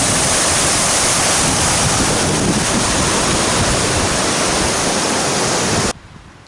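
The Yarlu River rushes through its valley in the Altai mountains at almost 2,000 meters, a loud, steady, unbroken roar of flowing water that stops abruptly near the end.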